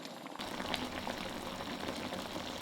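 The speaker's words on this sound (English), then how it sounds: "bring it to a simmer, and add the cornstarch slurry" A thick, cornstarch-thickened sauce with tofu bubbles and sputters steadily in a pan, a constant close crackling simmer with small pops throughout.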